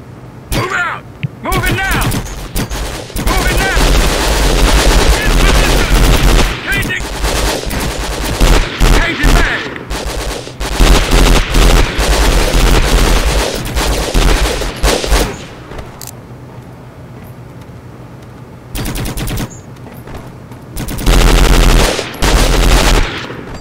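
Rapid automatic gunfire during a training exercise in the Conflict: Global Storm shooter game, loud bursts of machine-gun fire lasting several seconds at a time, separated by short pauses, with a few isolated single shots toward the end.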